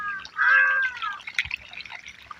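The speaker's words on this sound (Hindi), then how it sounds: "ये वो पाइप के मुँह इमर से पानी आ गया हे" Water gushes from the mouth of a farm irrigation pipe into a field being readied for rice planting, a steady close hiss of flowing water with a brief higher tonal squeal over it.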